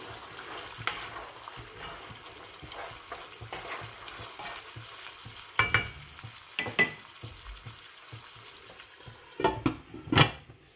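Mutton karahi with tomatoes cooks in a pan, giving a steady close sizzle and frying hiss broken by repeated stirring scrapes and louder clatters toward the end.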